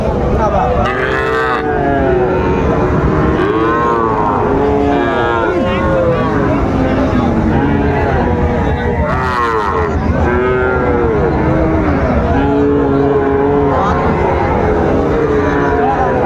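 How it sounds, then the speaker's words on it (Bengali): Young Sahiwal bull calves moo repeatedly and loudly, calls overlapping one after another over a busy, noisy outdoor cattle market background. "তিনটি ষাঁড় বাচ্চা।"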